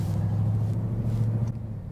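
A Ford F-150 Raptor R pickup truck engine idles after starting, a loud, close, steady low rumble with a deep hum that eases slightly near the end, no speech.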